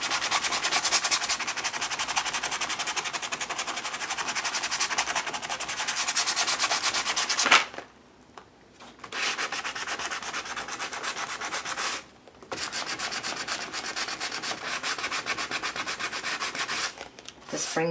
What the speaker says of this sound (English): I'm just going to sand it a little bit.